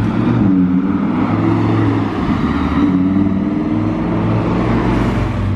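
A Lamborghini Huracan Spider drives past with a deep, loud engine roar that rises and falls slightly as it accelerates nearby.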